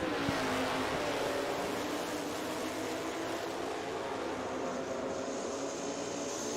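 2019 Mustang at an NMRA drag race roars past under a continuous broad engine rush, loud and steady, with no talking over it.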